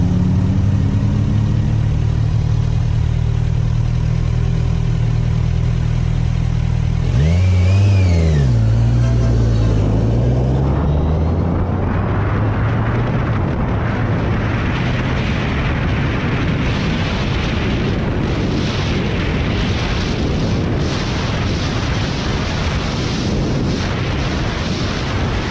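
Kawasaki Ninja 1000 motorcycle on a Bali road pulling hard, the engine rising in pitch through a gear change and then roaring loudly and steadily with heavy wind rush for a long stretch.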